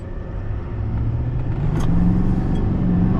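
From inside the cab, a Duramax diesel pickup fitted with a high-output Derringer tuner pulls away under light throttle, its deep engine rumble rising steadily and growing louder.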